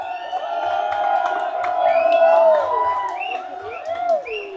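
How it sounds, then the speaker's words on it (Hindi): Lively protest crowd noise with cheers, whoops and shouting voices rising and falling over several seconds, fairly loud and close, with scattered claps mixed into the general roar. "क्या हो गया, क्यों ताली मारता रहता है क्राउड?"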